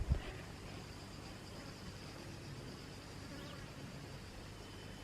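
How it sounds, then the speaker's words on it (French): Cicadas buzz faintly in the hot, isolated mountain countryside near Budva, Montenegro, a thin steady drone that sounds distant and quiet, with one soft thump at the very start. "il y a des petites cigales"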